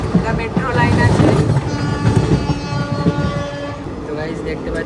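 A fast train on the Sealdah–Naihati line near Kolkata rumbles steadily through a station platform, with continuous low wheel and rail noise and a faint horn-like tone, heard from on board or close by.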